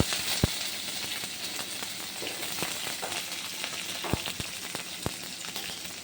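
Onions sautéing in hot oil with mustard seeds for a sambar, a steady broad sizzle with a few sharp pops and clicks of stirring, close and continuous with no voices.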